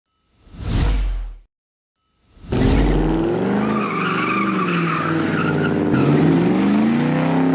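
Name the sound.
Mustang GT doing burnouts with spinning bald tires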